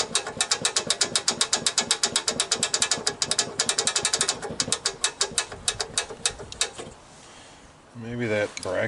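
Ratchet tightening a bolt on a 1983 Snapper mower, a fast steady run of close, loud clicking strokes that stops near the end before a brief voice.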